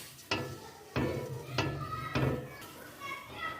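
Sugar syrup for mango squash stirred in a pot as the sugar dissolves, with four distinct spoon scrapes against the pan at a steady rhythm over a low simmering background, close and moderately loud.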